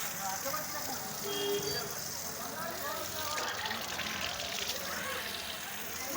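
Water runs steadily at a washing spot where visitors rinse their feet before entering a temple, a continuous hissing splash with faint background voices.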